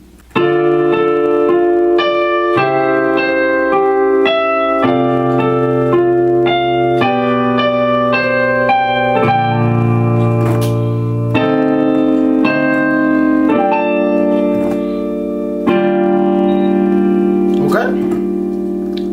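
Slow, deliberate piano chords from the intro of a song, each held for a second or two before the next, played loudly and clearly with no talking.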